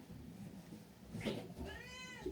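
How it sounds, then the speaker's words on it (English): A large house cat meows once, fairly close, the call rising and falling with clear harmonics, after a stretch of quiet room noise and a soft shuffle. "look at the size of this cat."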